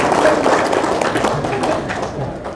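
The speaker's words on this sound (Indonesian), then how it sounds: "Tepuk tangan." Applause at a Maulid Nabi commemoration held in a mosque, a brief burst of scattered, uneven clapping.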